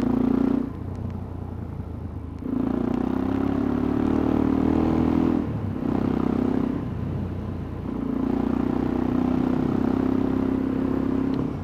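A Suzuki DR-Z motorcycle rides along a road, its engine droning loud and close in long steady stretches that drop briefly between gear changes or throttle lifts.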